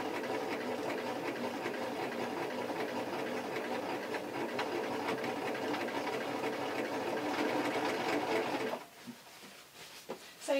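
A sewing machine runs a long, steady line of stitches through taffeta fabric below gathering stitches, a continuous close whir that stops abruptly near the end, followed by a few faint clicks.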